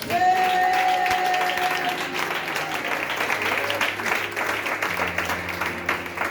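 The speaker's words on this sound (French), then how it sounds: "Acclame Jésus" A church congregation applauds during a French-language prophetic worship service. Dense clapping fills the room, strongest at the start and then settling, mixed with voices and tonal sounds in the background.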